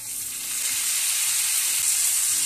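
Onions, tomatoes, coriander and curry leaves sauté in a pan for beans poriyal, a bright continuous sizzling hiss with soft stirring bumps underneath and no talking.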